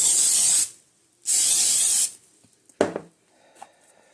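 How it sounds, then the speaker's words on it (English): Cooking spray hisses onto a mini waffle maker in two close, steady bursts about half a second each, followed by a light clatter and faint handling noises. "Okay, let's spray it."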